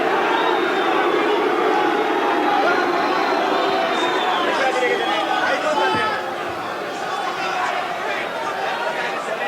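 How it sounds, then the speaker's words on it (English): A large boxing arena crowd keeps up a loud, steady roar of booing and chatter, easing slightly toward the end, with a commentator's voice faintly underneath. "Hamed trying to shut the boos of the crowd out of his mind"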